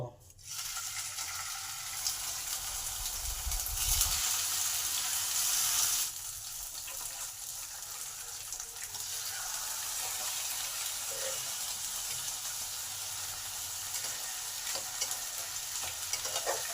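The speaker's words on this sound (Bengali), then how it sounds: "তেল গরম হলে মাছের পেটিগুলোকে হালকা করে ভেজে নেব" Fish belly pieces frying in a little hot oil in a pan, a dense, continuous sizzle close up that swells loudest early on, then settles into a steady crackle.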